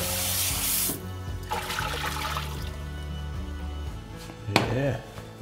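Tap water runs and splashes over boiled veal being rinsed in a kitchen sink, starting in a loud burst and then continuing more softly under a low background hum.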